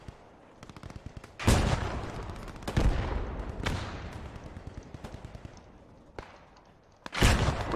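A .50 cal machine gun fires in the online war game Post Scriptum, with several sharp, loud bursts and booming reports spread over a stretch of rattling background gunfire.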